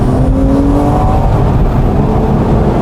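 A Porsche 911 Club Coupe's 3.8-liter M97 flat-six drones loud and close from inside the cabin, its pitch climbing steadily as it revs under acceleration, with no talk over it.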